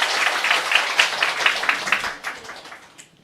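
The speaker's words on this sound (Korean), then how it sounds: "기사를 써주신 분에게 박수 부탁드립니다." An indoor audience gives a short round of applause, a burst of dense clapping that holds steady for a couple of seconds and then thins out and fades to quiet.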